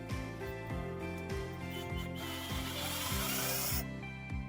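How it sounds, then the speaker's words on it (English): A power drill whirs in repeated short bursts, its motor pitch rising and dropping with each run as a screw is driven into a wood TV-mounting panel, loud and close. "now I'm going to use this drill."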